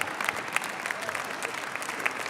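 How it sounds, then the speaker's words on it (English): An audience applauds in a lecture hall, a fairly quiet patter of many hands with a few sharper individual claps standing out. "I can't believe I get a clap for that"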